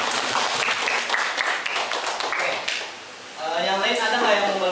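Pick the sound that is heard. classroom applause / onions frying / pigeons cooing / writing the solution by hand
classroom applause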